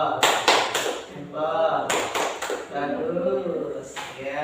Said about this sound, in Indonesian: kita kasih tepuk jempol kepada teman kita